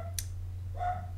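A dog gives a short, distant bark, preceded by a sharp click and sitting over a steady low electrical hum.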